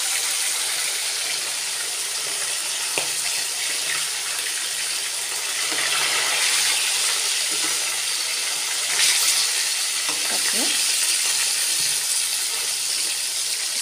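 Rupchanda pomfret fish frying in a pan, giving a steady broadband hiss and crackle of hot oil throughout, with small bursts of louder spattering and no talking.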